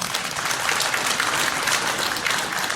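Steady, even applause from a large audience of about four hundred at a gathering of successful loss adjuster exam candidates, a continuous wash of clapping with no voices over it.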